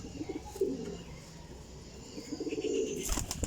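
Teddy Golden champion flying pigeons, about thirty birds, coo in two clear bursts, one early and a louder one near the end, close and unaccompanied by speech, with a brief rustle closing it out.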